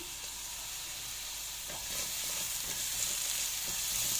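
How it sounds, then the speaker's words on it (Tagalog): Meat being stir-fried with white onion in a pan, sizzling steadily and loudly throughout, with a scrape of stirring and the frying growing slightly brighter toward the end. "i-stir fry natin yung ating meat. So, Let's go. So, igisa natin siya guys sa ating white onion."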